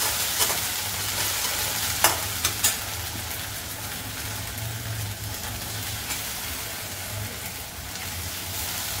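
Ginger, garlic, green chilli and coriander paste fries with curry leaves in a pan for vada pav filling, a dense steady sizzle with occasional sharp spatters and stirring scrapes, no voices.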